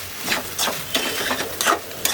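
Chickpeas, boiled potatoes and salt stirred into a frying masala for chana masala, giving a few scraping spoon strokes over a soft, steady sizzle of oil.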